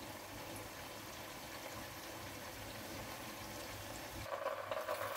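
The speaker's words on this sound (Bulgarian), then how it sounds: "Така, слагам гъбите с вода" Water pours steadily onto mushrooms in a continuous gushing stream, then the splashing brightens and changes tone as the pour shifts near the end.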